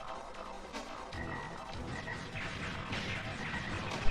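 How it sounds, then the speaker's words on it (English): Frogs croak and burst apart in Mega Man Legends 2 during a fight, a dense wash of game noise with croaking calls and crunchy impacts running continuously, with a sharp hit at the end. "Throw a frog at a frog. Watch a frog explode."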